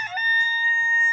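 A cockerel in Worcester crows one long, loud, close call with a strained, sustained tone and no other sounds around it.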